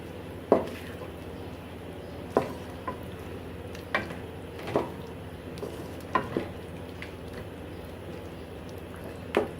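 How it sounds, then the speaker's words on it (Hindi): Taro root (arbi) roasts in a pan over medium flame with a steady low sizzle, while a spoon scrapes and stirs it in sharp, spaced strokes about every second or two. "अब हम इस अमेज़े में अरवी डालकर उसको अच्छी तरह से भूनेंगे।"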